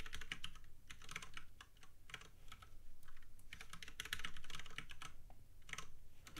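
Brisk computer keyboard typing while building custom LOVE 3 game levels, with dense clusters of keystrokes and short shortcut combinations clicking close and clear over about six seconds, with no speech.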